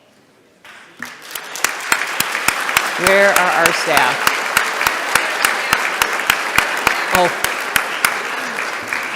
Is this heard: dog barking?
no